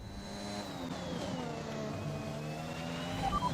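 A race car engine in the Braking Point racing game hums at a steady, moderate distance, its whine sliding gradually down in pitch across the few seconds, fairly quiet and without any speech.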